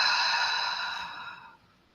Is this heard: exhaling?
yes